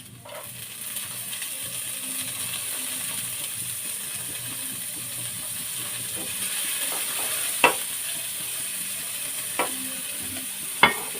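Carrots sautéing with garlic and onion in a pan for pancit canton, a soft continuous sizzle with faint stirring and a few sharp utensil clinks near the end, close and unaccompanied by talk.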